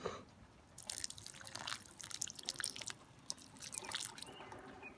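Water drips and trickles from a freshly watered bonsai pot, a scatter of faint, irregular close drops and splashes that runs on throughout without any talk.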